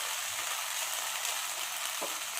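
Okra (bhendi) fries in a pan with Maggi masala, giving a steady, close crackling sizzle that holds evenly throughout with no talking.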